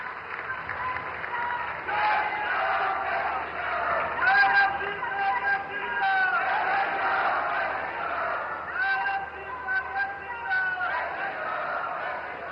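A crowd at a political rally claps and cheers for the Chief Minister, sustained dense applause rising and falling, while a voice speaks over a loudspeaker.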